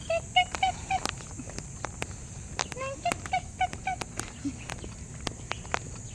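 Repeated short chirping bird calls ring out against a steady high insect-like hiss, with sharp clicks scattered throughout.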